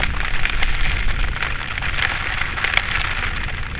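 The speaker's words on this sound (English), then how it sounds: "it's raining, big deal." Steady rain during a wet motorcycle ride, a dense close hiss of drops spattering continuously over a low rumble of wind and road noise.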